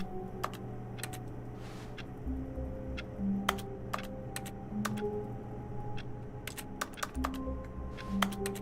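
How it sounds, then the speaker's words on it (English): Button clicks in The Stanley Parable video game ring out as sharp, quick clicks in irregular bursts, close and distinct over a steady low ambient hum from the office setting. "Left click just makes the sound of clicking buttons."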